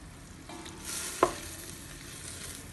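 Tomatoes stirred and frying in a pan for menemen make a soft, steady sizzle with a light spoon scrape and one brief clack near the middle.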